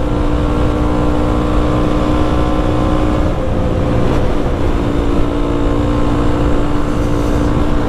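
A Honda Grom motorcycle engine runs continuously in traffic on a sunny ride, a steady loud droning hum with rich low tones and a slight surge partway through, with no talking.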